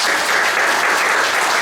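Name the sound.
congregation applause welcoming first-time church visitors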